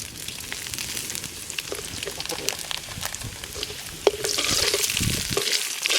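Fennel seeds tempering in hot oil for a village-style Madurai fish gravy, crackling and sizzling steadily with sharp pops throughout, the hiss growing louder toward the end.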